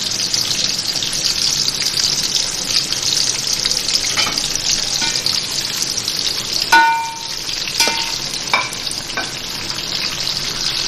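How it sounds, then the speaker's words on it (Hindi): Sliced onions fry in hot oil in a pan for pulao masala, giving a steady, close sizzle with occasional stirring scrapes and clinks throughout, no talking. "तो मुझे प्याज फ्राई करनी है।"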